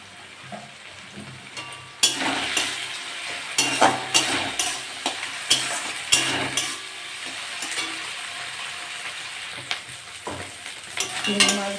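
A utensil stirs and mashes pointed gourd in a pan over soft frying sizzle, with repeated scraping and knocking strokes at close range and no talking.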